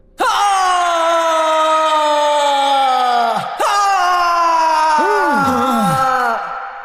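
Goku from Dragon Ball Z lets out two long, loud screams of pain, strained and sustained, the second breaking and wavering toward the end.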